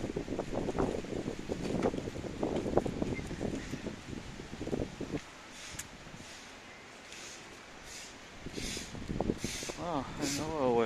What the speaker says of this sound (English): This morning we have quite strong wind.